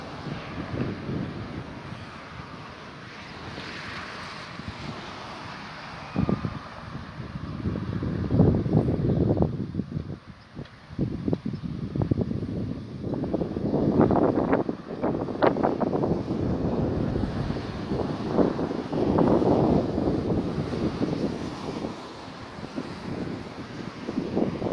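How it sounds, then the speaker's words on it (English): Wind gusts outdoors at an airport, rumbling and buffeting against the microphone in uneven surges that swell and drop, loud and close, with no voices. "There's a wind down here."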